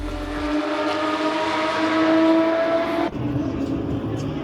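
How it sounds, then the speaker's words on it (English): Porsche race cars roar past on a track, a loud sustained engine whine rising in pitch and then dropping off sharply as the cars pass, with the sound continuing more distantly afterward. "not quite as much as I enjoyed listening to these Porsches"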